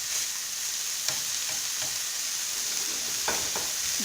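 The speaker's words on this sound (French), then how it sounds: "On retourne de temps en temps les steaks pour qu'ils soient bien cuits des deux côtés." Beef burger patties sizzle and fry steadily in a pan for a homemade hamburger, a constant close crackle with a few sharper pops and stirring clicks scattered through, no voices.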